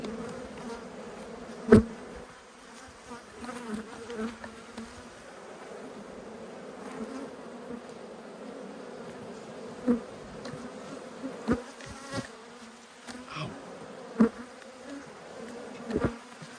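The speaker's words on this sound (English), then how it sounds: "Got a few bees down the side here." Steady insect buzzing from many bees around an open hive during a late-winter inspection, a low drone with a few sharper passes close by and occasional soft knocks.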